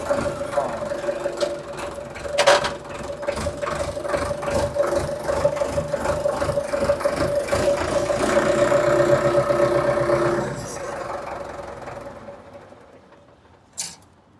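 An Indofarm 3055 four-cylinder tractor engine running at 1000 rpm in second low gear, a steady, fairly close mechanical drone with a rhythmic beat that eases down near the end.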